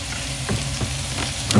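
Meat sizzles and fries in a frying pan, a loud close crackle with small stirring bumps and pops over a short stretch.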